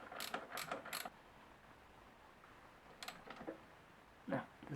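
Bolt on a Honda Bros NT400 motorcycle chain adjuster being tightened by hand tool: a few quick ratcheting bursts, then a pause and two more short clicking runs, close and fairly quiet.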